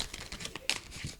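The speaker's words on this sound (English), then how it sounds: "The sound of card shuffling with us sitting like this." Tarot cards are shuffled at a table during a podcast, giving a steady stream of close, soft riffling and papery crinkles with one brighter snap partway through.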